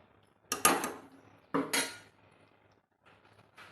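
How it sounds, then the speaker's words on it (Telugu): A metal lid set onto a cooking pan of stuffed brinjal curry: two sharp, close clanks with ringing tails about a second apart, then a faint rattle. "ఇంకా మళ్ళీ మూత పెట్టుకుంటున్నాను."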